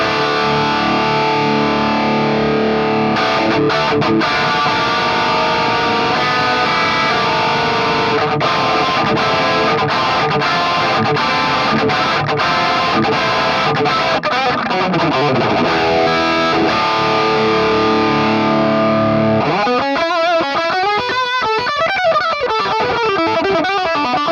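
Heavily distorted electric guitar through a Hotone Ampero modeler cloning a Marshall Silver Jubilee plays sustained chords and riffs continuously, loud and saturated, shifting to choppier phrases near the end, with no voices.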